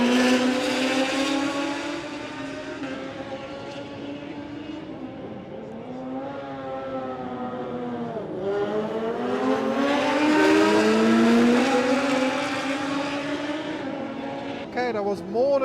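Racing motorcycles at the Isle of Man TT sweep past the grandstand one after another, engines rising and falling in pitch as each machine roars by close and loud, continuous high revs filling the whole stretch.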